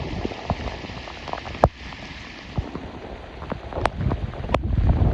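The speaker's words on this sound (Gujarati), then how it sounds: "36 કલાકથી 1 ને 1 ધારો વરસાદ ચાલુ છે." Heavy continuous rain falling beside a flooded river, a dense hiss of drops on surfaces with scattered louder splats and knocks, wind buffeting the microphone toward the end.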